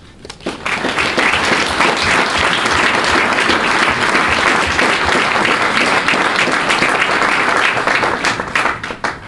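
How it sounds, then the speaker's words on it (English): An office celebration audience bursts into loud, sustained applause, dense clapping from many hands filling the room for several seconds before tapering off. "I think that is worth a round of applause"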